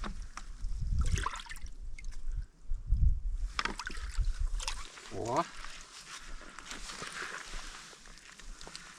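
A caught crucian carp splashes and thrashes in a bucket of water by a wild lake, irregular close splashes and sloshing with a voice talking over part of it.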